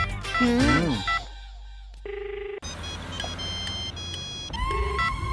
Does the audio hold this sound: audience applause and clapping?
no